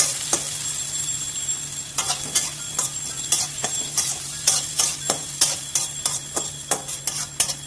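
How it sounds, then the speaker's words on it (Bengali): Onions sizzle in a pan under a constant hiss while a spatula scrapes and clacks against it in quick, uneven strokes. "আমরা একটু পেঁয়াজটাকে সামান্য একটু ব্রাউন কালার করে ভেজে নেবো"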